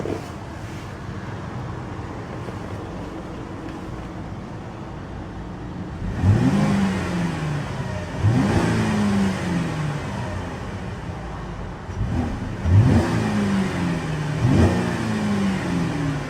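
Saab 9-4X engine idling, then revved in three or four sharp blips that rise and fall, each climbing toward a rev limiter just over 3,000 RPM, close and loud with no talk.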